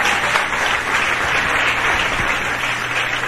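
A church congregation claps and applauds steadily and loudly as a dense, continuous wash of hand claps with no break.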